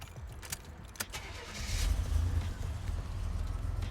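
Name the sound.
1987 Buick Grand National engine starting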